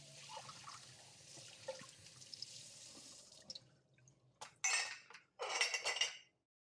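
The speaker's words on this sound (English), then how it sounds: "If you are a fan of hand washing dishes, what kind of dish soap and sponges you prefer?" Hand washing dishes with dish soap and a sponge at a sink: a steady stream of running water for a few seconds, then quiet, followed by two louder bursts of water and faint clinks of dishes, close and alone.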